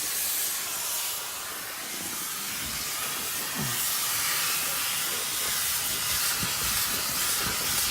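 A steam cleaner works on a semi truck's seats during commercial vehicle detailing, giving a continuous loud hiss with shifting spray texture close by and no talking.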